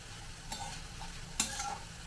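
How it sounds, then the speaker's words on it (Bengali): Bitter gourd (karela) pieces frying in oil over a low flame until crisp, a quiet constant sizzle with two or three brief stirring scrapes against the pan, nearby, no speech. "এই করলাগুলোকেও আমি গ্যাসের ফ্লেমটাকে লোতে রেখেই লালচে করে ভেজে নিচ্ছি"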